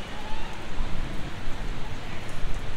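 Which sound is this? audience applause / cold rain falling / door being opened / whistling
cold rain falling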